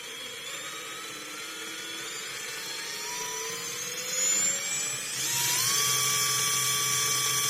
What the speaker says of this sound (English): Very, very smooth motor, and in a crawl it's almost silent.